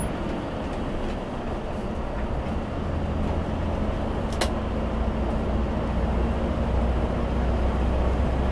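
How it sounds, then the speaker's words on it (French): A bus heading to the depot gives off a loud, steady engine drone heard from inside, a dense rumble that holds level with a faint rise near the end and one brief hiss midway. "On entend le bruit du moteur, on y est."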